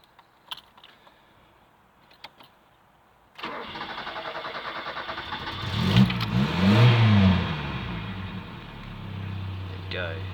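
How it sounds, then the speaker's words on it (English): A 1986 Ford Capri Laser 2.0 cranks after a few quiet clicks, catches and settles into a steady idle, then revs up and down close by before idling again. "You don't start it for a week or two, it does take a little bit to start."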